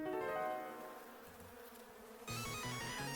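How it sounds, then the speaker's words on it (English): Buzzing bees in the video game Potion Stand Story DX, a harmonic electronic drone that fades midway and then returns louder with a pulsing pattern, set against game sound, without speech. "Sweet mother of bees! Why bees?"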